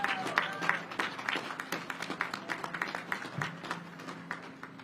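Audience at a Navy ship commissioning ceremony in Boston claps for Navy families, a moderate, somewhat distant patter of individual claps continuing for several seconds.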